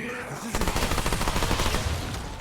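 A submachine gun fires a sustained rapid burst in the shooter Remnant 2, a dense, even rattle of shots lasting about two seconds after a brief quiet moment.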